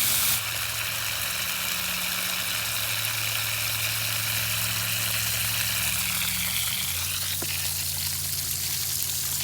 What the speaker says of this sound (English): You can hear the gear in there turning.